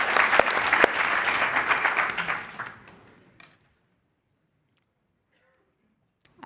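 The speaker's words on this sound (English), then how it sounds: "Let's give her a round of applause." An audience at an EU agri-food conference session claps for a speaker about to present, sustained applause that fades out after about three seconds and leaves near silence.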